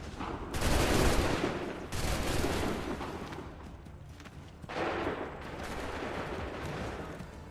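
A musket volley in Assassin's Creed III: two broad, loud crackling volleys of massed gunfire, one early and one later, each fading into rumbling echoes, with almost no talk.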